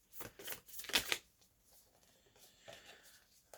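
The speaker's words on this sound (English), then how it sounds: "I am fumbling these cards hard" Tarot cards being fumbled and shuffled by hand, a quick riffling burst of papery flutters up close and fairly quiet, then softer rustling.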